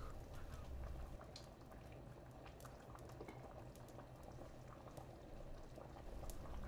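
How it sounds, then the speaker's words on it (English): Homemade chicken noodle soup at a steady boil in a pot, a continuous close bubbling and popping, soft and even with no talking. "we're just gonna let those boil and cook"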